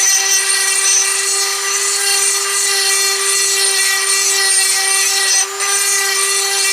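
A drill bit runs steadily and loudly while boring drainage holes in a custom plant pot, giving a continuous tonal whine with one brief dip near the end and no talk.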